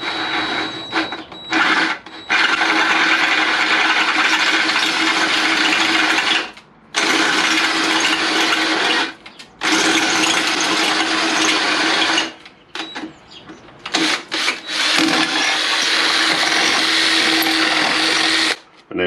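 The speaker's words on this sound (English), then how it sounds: "I've got my drill bit fitted into my drill, and all we're going to do is gently" A power drill with a bit drills out a damaged thread in metal, a loud, steady grinding whine held for long stretches and broken by several short pauses and restarts.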